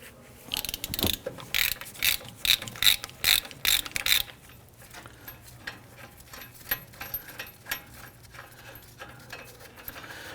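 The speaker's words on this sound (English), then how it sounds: "I'm going to start by loosening and removing the lower bolt first" Close, loud ratchet clicks come in quick bursts while loosening the lower 18mm caliper bracket bolt on a 2010-2019 Ford Taurus front brake, then slow into sparser, softer clicks, with no talking.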